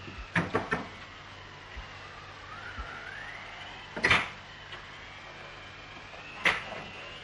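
An old door in a dark old house opens with a few sharp clunks and rattles, followed by a faint creak and later knock-like thumps spaced apart in an otherwise quiet room.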